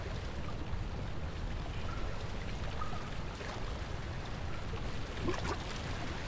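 Underwater bubbling in the horror game Amnesia: The Dark Descent, a steady wet, watery churn with faint gurgles and drips over about six seconds, fairly even in level with a slight swell near the end.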